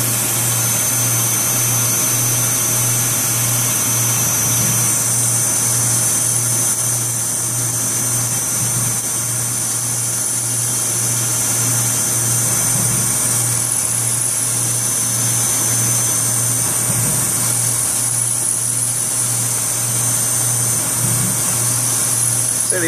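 A VMC machining center turns a stainless steel bolt with rougher and finisher turning tools, producing a steady loud mechanical hum with a constant high whine and a low motor tone throughout.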